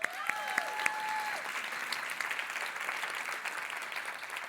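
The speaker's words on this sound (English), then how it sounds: "let's give a big round of applause to Galaxy Event Center" A crowd claps and applauds steadily, moderately distant, with a few whistles and cheers rising over the clapping.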